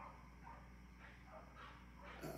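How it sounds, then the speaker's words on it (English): Several dogs bark and yip in the background during a home Bible study livestream. The repeated barks are faint and distant, sitting under a steady low hum with no talk over them. "excuse my dogs."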